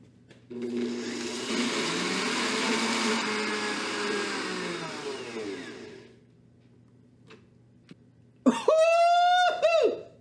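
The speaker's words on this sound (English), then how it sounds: "we're gonna throw that on the blender" A blender whirs loudly for several seconds, then stops; after a short pause a brief, higher-pitched motor burst starts up again near the end.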